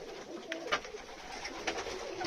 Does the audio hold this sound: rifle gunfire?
no